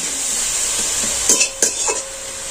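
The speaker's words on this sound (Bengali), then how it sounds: "আমি গ্রেট করে গাজর দিয়ে দিচ্ছি, আমি নাড়াচাড়া করে ভেজে নেব।" Grated carrot frying in ghee for a milk sweet, with a steady sizzle and a few distinct scrapes and clinks of a spoon stirring against the pan near the end.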